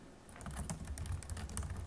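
Quiet, steady typing on a computer keyboard during an Excel accounting data entry, a continuous run of soft key clicks with no talk.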